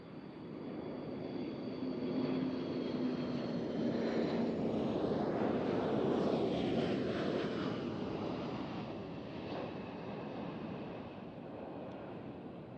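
A Boeing E-3 Sentry on landing approach at the Waddington airshow produces a broad, sustained jet roar that swells as it passes and slowly fades, heard from a distance with no talking.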